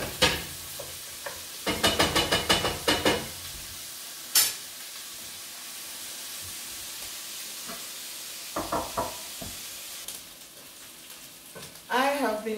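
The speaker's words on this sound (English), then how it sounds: "I have been caramelizing my onion for about 5 minutes." Onions cook slowly in a pan with a soft, steady sizzle, while a spoon stirs and knocks against the pan in short bursts. The cooking is heard close up, and faint sounds come and go near the end.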